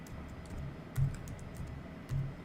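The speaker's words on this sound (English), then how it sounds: "I'm going to go ahead and type in the IP now" IP address being entered on a computer keyboard, heard as a quick run of close, light key clicks with two slightly heavier taps standing out, all in a quiet room.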